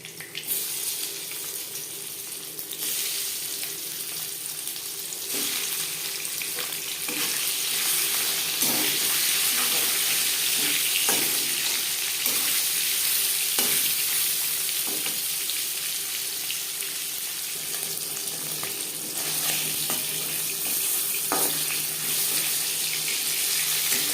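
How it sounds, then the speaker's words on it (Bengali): Pangas fish pieces fry in a small amount of oil in a pan, producing a loud, continuous hiss with scattered pops and crackles, steady from start to finish, with no voices. "ভাজতে চাই ভাজা হয়ে গেলে অপর সাইডটা উল্টে দেবো"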